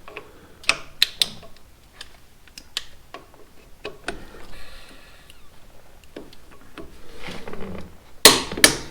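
Torque wrench tightening a compensator bolt on a motorcycle primary drive, a series of close, sharp ratcheting clicks and ticks in an irregular rhythm, ending in a louder metallic click.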